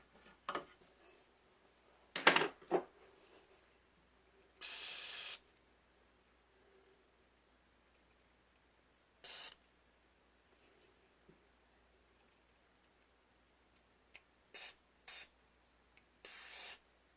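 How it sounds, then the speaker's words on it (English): Short bursts from an aerosol can of DeoxIT contact cleaner used while servicing a 1929 Edison Model R-4 high-boy radio receiver, several close hissing sprays of one to two seconds separated by quiet pauses and faint handling noises. "they could come up with a can that doesn't have to be completely upright in order to spray"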